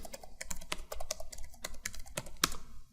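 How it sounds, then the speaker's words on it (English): An IP address being typed on a computer keyboard, with a quick uneven run of crisp close key clicks and brief pauses between bursts. "Now we will go to our browser here and type this IP address"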